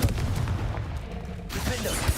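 A Confringo fire spell blasting in Hogwarts Legacy, heard as a dense rumbling burst with a sustained roar through the clip and another loud burst near the end.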